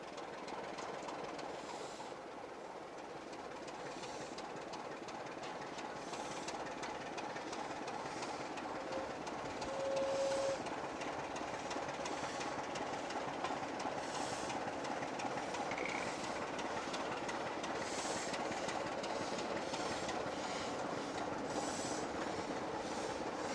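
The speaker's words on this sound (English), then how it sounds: "Ropley Shed is where we see a Class 25 diesel engine shunting an unrebuilt, bullied Pacific number 34105 Swanage" A Class 25 diesel locomotive shunts unrebuilt Bulleid Pacific steam locomotive 34105 Swanage at Ropley shed on a preserved railway, giving a steady, close rumble of engine and moving stock with faint clanks, and no voices.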